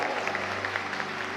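Applause for Our Lady during a Catholic Mass at an outdoor camp gathering, a steady wash of many hands clapping from a large crowd, with a low hum underneath throughout.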